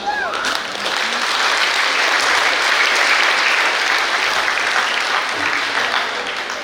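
Audience applause at a high school graduation ceremony, a large crowd clapping loud and sustained, a dense even roar of hands filling the hall from start to finish.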